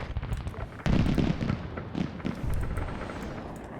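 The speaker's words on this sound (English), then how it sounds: "Ground command, I'm having artillery track their back." Artillery fire in the Arma 3 military game, heavy booming blasts and rumbling impacts layered over a dense, noisy battlefield din, with one sharp loud hit near the start.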